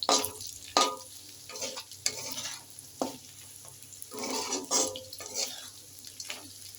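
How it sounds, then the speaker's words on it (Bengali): Chicken and potato pieces frying in a pan, a low continuous sizzle broken by intermittent scraping stir strokes, close and fairly quiet. "আর একটু হয়ে আসলে আমি নামিয়ে নেব, চিকেন ভাজা হয়ে যাবে"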